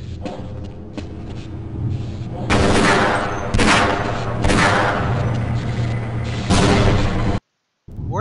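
Gunfire and grenade explosions from the video game Half-Life, loud repeated bursts of shots and booming blasts in quick succession, ending abruptly in a brief silence.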